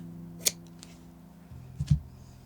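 A couple of sharp scissor snips cutting yarn during crochet work on a tiny fleece baby blanket, close and quiet, one crisp snip followed by a double snip about a second and a half later, against a low hum.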